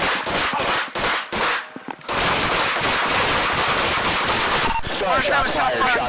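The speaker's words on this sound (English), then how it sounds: "20 rounds were fired." Rapid police gunfire, about twenty rounds fired in a sustained loud volley in a backyard, with shouting before and after the shots.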